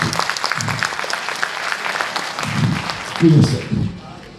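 An audience at an anniversary presentation event claps in a brisk burst of applause that swells toward the end, while a voice talks over it.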